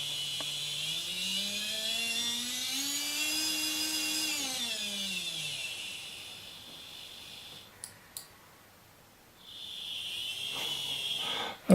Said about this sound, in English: here's the TOMIX Track Cleaner